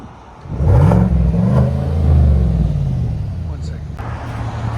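A Chevy Silverado Z71 fitted with a Borla Atak crate muffler is revved once, a deep, subdued engine rise that falls back to a low, quiet idle, with someone talking over it.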